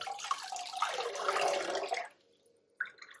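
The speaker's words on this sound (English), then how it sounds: "I'm just going to really carefully remove it from our still warm water." Wet wool fibre lifted carefully out of still-warm water, giving a close, steady sloshing and trickling pour of water for about two seconds, then near silence and a short final splash.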